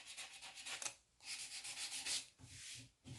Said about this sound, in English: So I'm going to start by sanding this corner